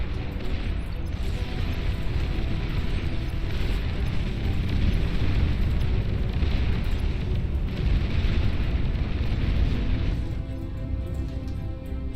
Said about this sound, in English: Oh, nice bombing run.